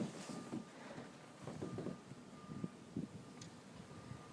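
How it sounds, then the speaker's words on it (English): Wind blows hard during a blizzard beside a back porch, a low, rumbling gusty roar buffeting the microphone, with a faint steady tone running underneath throughout. "You can see here how fast the wind is blowing."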